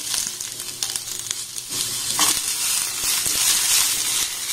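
Chopped onion, capsicum and tomato fry in a little oil in a pan, giving a loud, continuous close-up sizzle with soft scraping stir strokes throughout.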